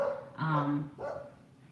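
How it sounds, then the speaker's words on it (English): Guard dogs at home bark in two quick bursts, a short pair of sharp, fairly close woofs with a brief pause between them. "There's my guard dogs on duty."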